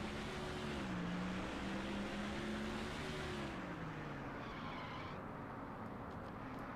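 Race car engine droning through a NASCAR Thunder 2004 career race at Martinsville, a steady loud roar with shifting pitch as the car weaves, continuous and alone without voices.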